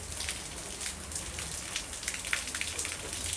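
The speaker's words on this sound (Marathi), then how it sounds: "इतक्यात पाऊस पडायला लागला" Steady rain falls during a home visit, a soft continuous patter of drops with scattered individual taps, fairly faint and with no voices.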